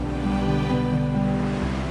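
Steady surf rolls along the coast at Santa Ana, Cagayan, a continuous low rumble of breaking waves with faint wind noise, unbroken and fairly close, with no speech over it.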